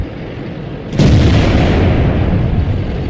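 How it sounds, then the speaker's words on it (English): In World of Tanks, an artillery shell strikes a tank with a sudden loud blast, followed by a heavy, rumbling roar that holds on for a few seconds. "Artillery has fire on me, so I need to get out of here."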